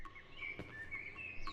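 Morning birdsong in the horror game Cry of Fear: faint, thin chirps and short whistles repeat softly over a low ambient background, with one brief knock partway through.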